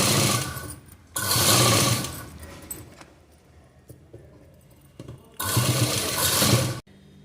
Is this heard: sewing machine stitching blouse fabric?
yes